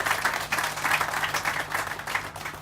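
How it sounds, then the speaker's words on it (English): Applause from an audience at a tunnel boring machine launch and naming press event in Atlanta, a steady wash of many hands clapping at moderate level over a low electrical hum, without pause. "Please give Candace a round of applause."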